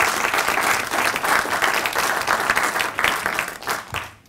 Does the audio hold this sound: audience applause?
yes